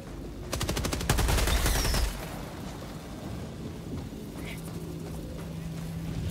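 Rapid bursts of machine gun fire in Helldivers 2, loud and dense for about a second before giving way to a lower battle rumble with scattered distant shots.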